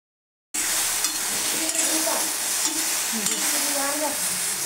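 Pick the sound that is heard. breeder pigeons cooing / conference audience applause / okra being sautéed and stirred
okra being sautéed and stirred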